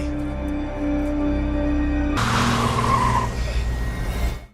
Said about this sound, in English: John and Sasha got into a car and drove away without him.